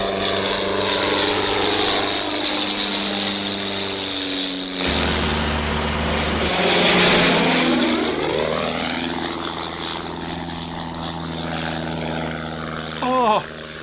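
A propeller aircraft comes in to land, its loud droning engine rising and shifting in pitch as it passes close overhead, then fading, with a short voice near the end.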